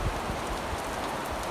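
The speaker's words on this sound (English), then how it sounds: "it started pouring down rain" Heavy rain pours down outdoors where firewood is being stacked, a dense, steady hiss of drops spread evenly through the moment with no voices.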